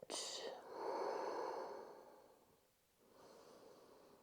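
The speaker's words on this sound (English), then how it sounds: "breathing out" A slow, soft exhale during a yoga session, a close breathy rush that fades away, followed by another quieter breath.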